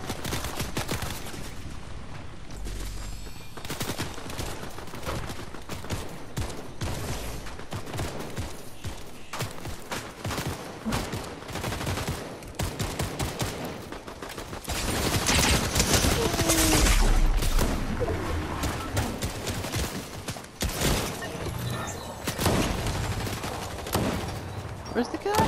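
Rapid bursts of gunfire from a video game during a mini live event, dense and continuous with overlapping shots, louder in the middle stretch, with occasional footstep-like thuds and brief voices in the background.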